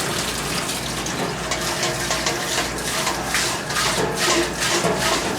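Hot water rushing and sloshing inside a beer keg being rinsed clean, a steady loud gushing stream throughout with no voices.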